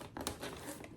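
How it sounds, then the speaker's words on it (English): Adhesive tape is pulled off its roll and pressed down onto a papercraft Easter basket, a short, close crinkling rip with a sharper tearing burst partway through. "And then we're going to put tape"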